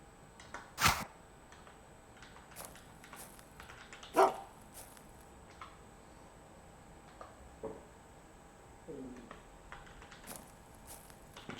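Dog barking in the survival game UnReal World, two sharp barks a few seconds apart with a faint whimper later, amid quiet clicks and game background, no talk.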